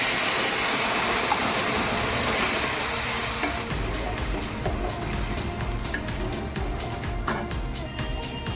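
Moong dal and spice mixture with cumin powder frying in a pan, a steady close sizzle with stirring scrapes, growing more crackly and uneven toward the end, no talking.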